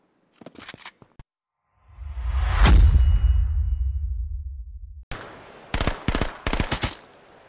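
Video game gunfire: short bursts of automatic shots, then a loud swelling whoosh and rumble, then more quick volleys of close, sharp rounds.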